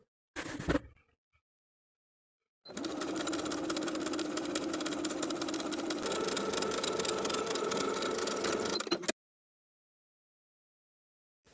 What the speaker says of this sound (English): I'm going to edge stitch along the upper edge of my folded hem